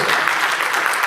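Audience applause at a gathering: a continuous wash of many hands clapping at an even, moderately loud level throughout, with no pauses.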